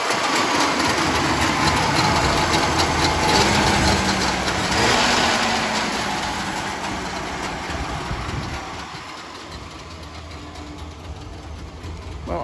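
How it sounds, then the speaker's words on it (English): A 1981 Wartburg 353W with a three-cylinder two-stroke engine runs at a steady idle, a dense buzzing rattle heard close up that swells slightly midway and then eases, with no talking. "That's a 3-cylinder 2-stroke in action."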